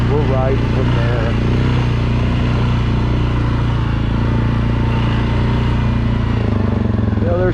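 An ATV engine drones steadily while riding meadow trails near the Meadows ORV Campground, a loud, close, continuous rumble with a voice talking over it.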